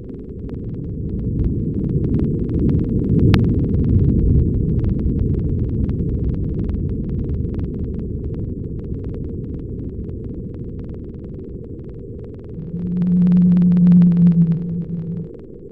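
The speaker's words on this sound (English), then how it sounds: "That's believed to be the sound of an underground plate shifting or cracking way deep under the ocean floor, which caused an underwater earthquake." Deep underwater rumble recorded from an earthquake as a tectonic plate cracks beneath the ocean floor, a steady low throbbing drone with faint crackles, swelling into a louder low tone near the end.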